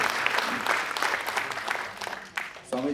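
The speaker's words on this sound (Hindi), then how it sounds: "तालियां धीरे नहीं, ऐसी ज़ोर से बजाओ तो उन्हें लगे कि उनके लिए बजाई जाए।" Loud, dense applause from a large audience at a religious gathering, continuous clapping across the whole stretch with a brief dip near the end before resuming.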